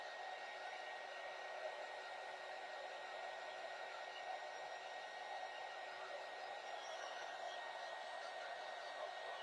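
A hair dryer blows steadily on a painted craft piece from a fall tiered tray kit, giving a constant, even whooshing hum at moderate distance with no talk.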